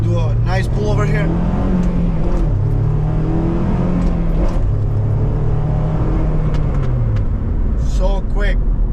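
A 2005 Honda S2000 pulls hard through short gears, its engine note climbing and shifting in loud, close sweeps from inside the car, with people talking briefly at the start and end.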